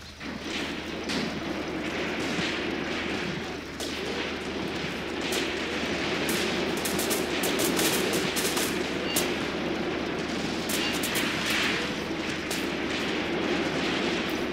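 Soviet artillery support fire in the WWII tactics game Graviteam Tactics: Mius Front. It forms a steady, rumbling barrage of dense, overlapping blasts and rattling gunfire that continues without pause throughout.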